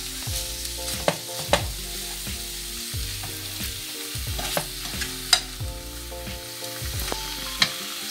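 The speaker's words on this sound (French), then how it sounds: "Je mets sur feu moyen. J'ajoute ma viande hachée." Minced meat frying in a pan over medium heat, a steady close sizzle broken by repeated scraping and tapping strokes of a utensil as it is stirred and crushed.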